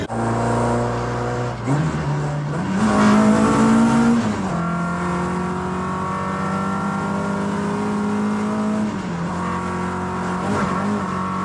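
A car with freshly raised suspension drives along, its engine droning loudly and steadily with gear changes and rising revs, close and without talk, at a summit car show event.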